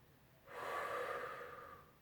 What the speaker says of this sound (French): Insistez sur la respiration.